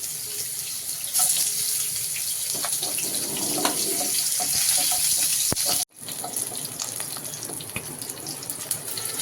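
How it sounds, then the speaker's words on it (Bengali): Bitter gourd frying in mustard oil in a pan, a steady broad hiss of sizzling oil close by, with a brief cut partway through. "করলাটা প্রথমে ভেজে নিচ্ছি।"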